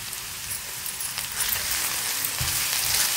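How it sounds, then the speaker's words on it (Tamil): Chopped onions and curry leaves sautéing in a pan over a medium flame while dal khichdi is cooked. The sizzle is steady and close, rising slightly and crackling, with occasional stirring scrapes and no talk. "இதை மீடியம் ஃப்ளேம்லேயே வச்சு நிதானமாக வதக்கணும்."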